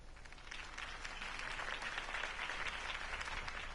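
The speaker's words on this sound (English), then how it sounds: "could have heard that applause" Crowd applause in the video game Batman: The Telltale Series, a dense wash of clapping that swells slightly and holds, heard at a moderate distance.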